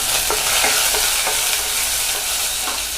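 Dried red chilli, green chilli, curry leaves and coriander frying in hot oil for pasi paruppu sambar, with a steady bright sizzle and a few soft spoon scrapes as they are stirred, close and continuous with no talk.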